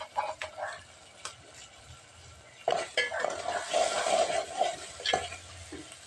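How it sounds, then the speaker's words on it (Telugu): Onion pieces fry in a pan, with a quiet sizzle and bursts of stirring and utensil scrapes against the metal, which swell into a louder, busier sizzle midway. "ఒకసారి ఉల్లిపాయ ముక్కలు ఫ్రై అయ్యేలా చూసి కలుపుకోవాలి"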